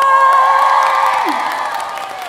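A large crowd at a live concert in a mall cheers and applauds loudly, a sustained roar of voices and clapping that slowly tapers.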